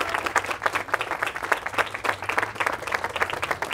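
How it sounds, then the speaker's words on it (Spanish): Applause from guests at a quinceañera church ceremony, a steady burst of many hands clapping close by for the whole stretch, dense and lively with no break. "Un aplauso más para esta pequeña."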